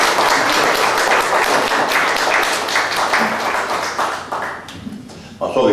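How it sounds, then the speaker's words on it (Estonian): Audience applause at an archival meeting with a composer in 2011, dense continuous clapping from a crowd that thins out toward the end, with a voice speaking over it. "Ja ega te ei julge ometi aplodeerimata jääda Aavole"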